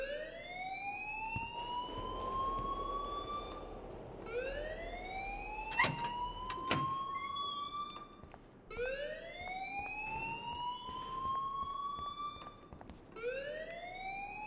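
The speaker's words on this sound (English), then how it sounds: "please turn off that alarm since that's your job" An alarm in the video game Life is Strange Remastered wails in repeated rising sweeps, each climbing tone cycling about every four seconds, loud and steady with a brief sharp chime partway through; no one speaks.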